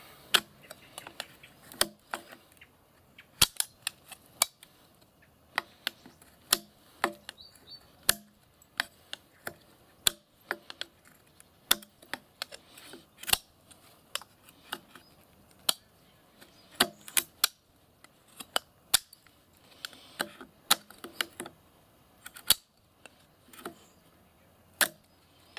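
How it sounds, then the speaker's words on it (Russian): Hultafors heavy duty knife shaving and planing aluminium, a long series of sharp, irregular clicks and scraping snaps, close and fairly quiet, with no talk. "Продолжаем со строганием алюминия."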